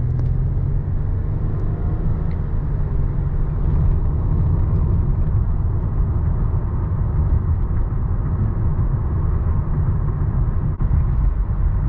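Steady low engine and road rumble from inside a 2009 Lexus ES350 while driving, a smooth continuous drone with tyre and wind noise and no talking.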